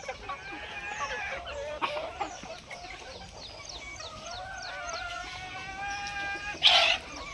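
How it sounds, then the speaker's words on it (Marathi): Village chickens, including multi-coloured roosters, clucking and calling repeatedly nearby, a series of rising and falling calls with one louder squawk near the end. "हे मल्टी कलरचे सुद्धा कोंबडे आहेत आपल्याकडे"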